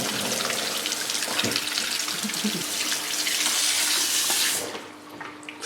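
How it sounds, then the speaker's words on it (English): Tap water runs steadily in a continuous broadband rush, rinsing neutralized perm rollers in hair, then tapers off near the end; no voices. "So far, rinsing out with water."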